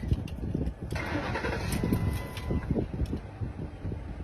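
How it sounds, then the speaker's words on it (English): A car engine cranking and catching, then settling into a rumbling idle, close and fairly loud with a low rough texture throughout. "Turn the engine on and keep the car in park."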